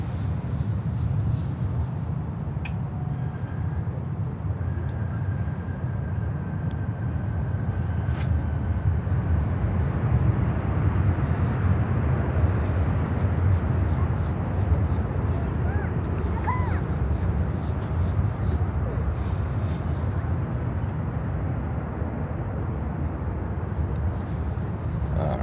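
A Suriname Airways airliner at Miami airport, a steady broad roar of jet engines heard from a distance that holds evenly throughout, with faint background rumble and no clear voices.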